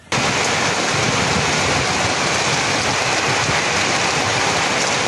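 Heavy rain pours down on the town of Boryslav, Ukraine, in a dense, continuous roar of droplets, loud and unbroken from start to finish.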